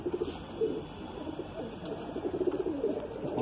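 Madrasi pigeon cooing softly and repeatedly at close range, low throaty coos rising in a steady, uneven series with no voices over them.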